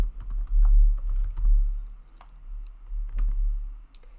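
Computer keyboard keys tapped in an uneven run of clicks while an answer is typed into an AI website builder, close and moderately loud, with short pauses between bursts and no talking.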